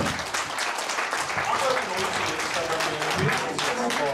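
A crowd applauds at a Georgian poetry day event, steady dense clapping that fills the room for several seconds at a constant loud level, with a voice faintly heard beneath it.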